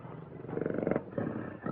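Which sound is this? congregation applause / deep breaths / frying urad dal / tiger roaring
tiger roaring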